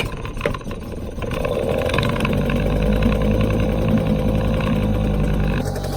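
An old two-stroke outboard engine on a boat runs at a steady mid-pitched drone after a brief rough start, loud and close, with no speech over it.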